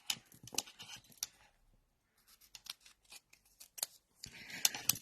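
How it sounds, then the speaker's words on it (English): Scissors cutting paper circles in half for a handmade card. Several close, crisp snips come in two bursts with a quiet pause between them, and no one speaks. "For the corners, we're going to cut them in half."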